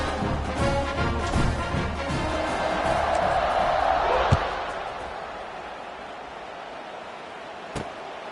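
Stadium crowd noise from NCAA College Football 26, a dense steady roar swelling slightly after a score and then easing, with a couple of sharp thumps cutting through the constant buzz.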